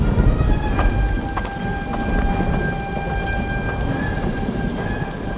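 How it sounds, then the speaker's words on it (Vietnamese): Heavy rain pours down steadily during a flood, with low thunder rumbling beneath the constant downpour and faint sustained tones in the background. "Mưa lớn rồi"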